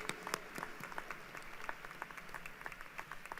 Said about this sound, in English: Join me as we give a round of applause to the graduates of the School of Biomedical Informatics